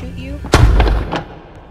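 A single loud, booming gunshot goes off in a video game right after a brief voice, the blast decaying quickly over about half a second.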